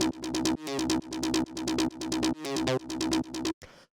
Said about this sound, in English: So the next sound we have here is a 303